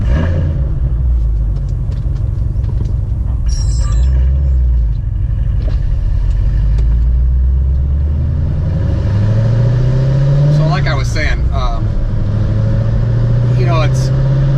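An 800 hp modified C7 Corvette Stingray drives off, its engine rumbling loud and steady with rising revs and a couple of sharper accelerating sweeps, heard from inside the car while a voice speaks briefly.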